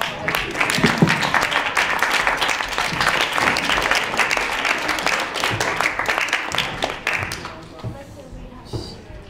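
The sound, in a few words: audience applause for returning debate jury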